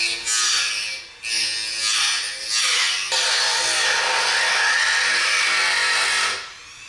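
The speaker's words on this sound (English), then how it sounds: "I've got the Dremel tool out and ready to cut away that plastic where I need a little bit more clearance" A Dremel rotary tool cuts away plastic on a BMW S1000RR motorcycle shift lever, giving a loud, close, high-pitched whine that wavers as it bites and eases, then runs steadily before stopping.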